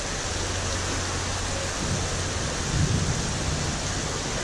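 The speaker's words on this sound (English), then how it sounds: "I guess it can rain on your cruise" Heavy rain pouring down during a thunderstorm in Honduras, a steady dense hiss with a low rumble of thunder swelling midway, close and enveloping, with no talking.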